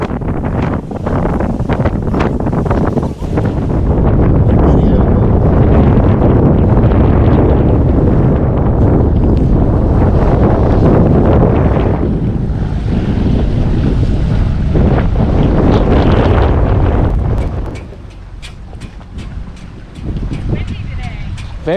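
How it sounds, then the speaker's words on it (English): Roaring wind buffets the microphone aboard a sailboat in 22-mile-an-hour winds, with choppy water slapping the hull. The loud, constant rush eases near the end. "It had 22-mile-an-hour winds and chop"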